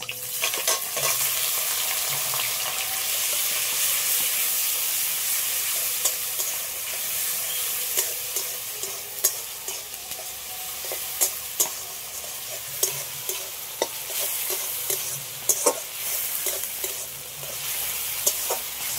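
Grated onion sizzles steadily in a hot pan while a utensil stirs, then cumin and ginger paste go in, bringing sharper scraping and clicking stir sounds over the continuous close frying hiss.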